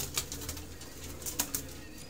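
Pigeons flutter and shuffle faintly at a loft in Faisalabad, with a few soft flaps and rustles over a low background hum.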